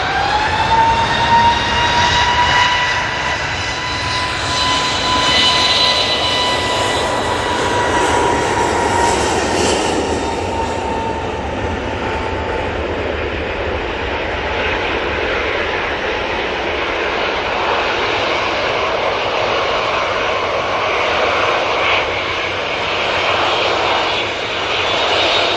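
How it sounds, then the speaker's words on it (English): A Helvetic Embraer jet comes in at Manchester, passing close and loud with a falling engine whine and rushing roar that peaks early, then settles into a steady, slowly fading rumble. "The Embraer coming in."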